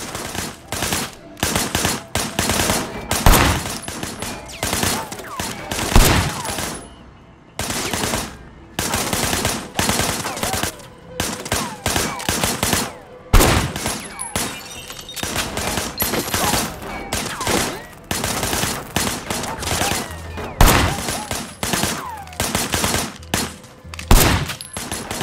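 Sustained gunfire in the Sleeping Dogs: Definitive Edition action game, loud close bursts of rapid shots and automatic fire with short pauses between volleys, going on throughout.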